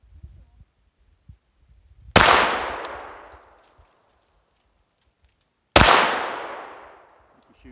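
Two sharp, loud handgun shots fired at targets outdoors, spaced about three and a half seconds apart, each with a long ringing decay and quiet gaps between.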